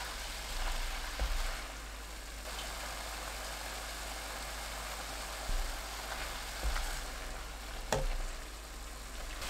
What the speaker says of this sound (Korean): 지글지글 소리 나면 10초 더 볶은 뒤 김치, 올리고당 1큰술 넣고 중불로 4분 볶아주세요